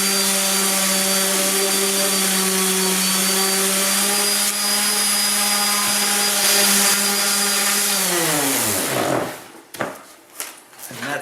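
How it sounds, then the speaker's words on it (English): A power sander runs around the edges of wooden templates for a motorcycle fuel-tank foam blank. It gives a loud, steady whirring whine that winds down near the end, followed by a few short handling knocks. "Now I'll run a sander around the edge just to make sure they're both fairly even"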